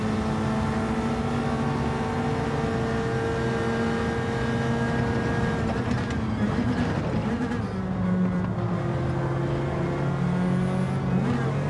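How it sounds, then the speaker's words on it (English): A Bugatti Veyron race car drones steadily in Gran Turismo 7 during an online lobby race, its sustained engine whine holding and shifting pitch with no talk over it. "God, that Veyron's quick."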